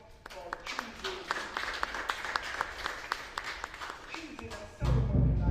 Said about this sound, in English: I also give the family a nice round of applause